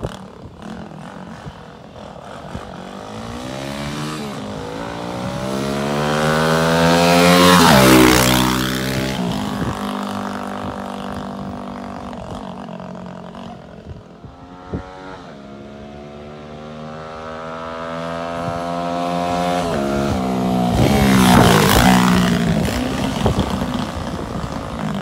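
A Tao Tao DBX1 140cc dirt bike ridden outdoors, its small engine buzzing and rising and falling in pitch as it revs, passes nearer with a loud peak around the middle and again near the end, no voices.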